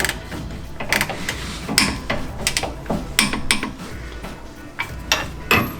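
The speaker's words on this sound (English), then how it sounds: "Now, just need to torque this bolt back here" Torque wrench tightening a steering stabilizer bolt on a Jeep Wrangler YJ: rapid metallic ratchet clicks and clinks in irregular bursts, close up and alone with no talk.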